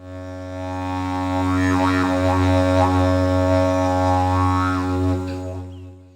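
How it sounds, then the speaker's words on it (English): A deep, continuous droning drone with shifting overtones and rhythmic vocal-like wah inflections, sustained for several seconds at moderate loudness. "that is the sound of the didgeridoo"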